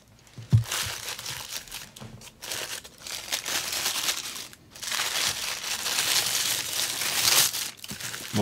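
Parchment paper and plastic protective wrapping crinkle and rustle in steady bursts while a Renault 5 Maxi Turbo rally model car is unboxed, a sharp crackle early, close and fairly loud, no speech.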